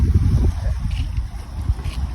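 Strong sea wind buffeting the microphone in heavy low rumbles, loud and gusty throughout, with a faint hiss behind it, as a storm approaches a fishing boat.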